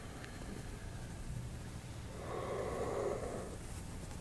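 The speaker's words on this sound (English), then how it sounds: "The breath is deep and conscious." Deep, conscious breathing during a kundalini yoga warm-up, heard as a soft steady hiss that swells into one long, fuller breath near the end, close but faint under a constant background noise.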